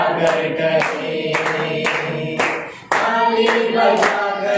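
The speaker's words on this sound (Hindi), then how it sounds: "हाथों को उठाकर करें, ताली बजाकर करें" Church congregation clapping hands in rhythm during a worship song at a Resurrection Sunday evening service, steady repeated claps over singing and instruments.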